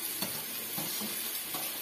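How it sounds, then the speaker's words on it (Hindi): A tadka tempering sizzles into a bottle gourd curry, a steady close frying hiss with a few soft stirring clinks, heard alone. "तो देखिए लगा दिया इसने तड़का सब्जी को"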